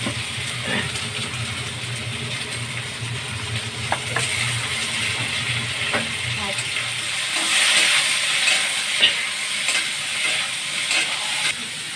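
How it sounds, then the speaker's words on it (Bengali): Pumpkin stalks and other vegetables fry with salt in a pan, giving a steady close sizzle with occasional scraping and stirring clicks and a low hum fading partway through; no talk. "এবার কুমড়ো ডাঁটা দিয়ে আবার ভাজবো, একটু নুন দিয়ে দেবো।"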